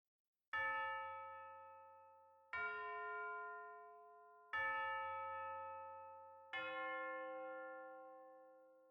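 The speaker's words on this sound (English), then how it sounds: "There's only one element from the percussion section that I left until last on purpose, the tubular bells." Four tubular bell strikes in an orchestral percussion arrangement, evenly spaced about two seconds apart, each a bright metallic chime with a long ringing decay, heard alone.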